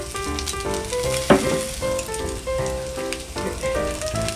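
Pan-fried noodles and stir-fried meat sizzle together for Hita-style sauce yakisoba, made with Oisoya noodles. A steady, hissing fry runs under prominent melodic background music, and there are no voices.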